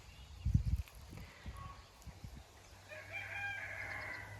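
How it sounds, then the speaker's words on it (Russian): Roosters in a vegetable garden, one loud crow up close followed by fainter clucks and a more distant crow from another bird. "Молодцы петушки."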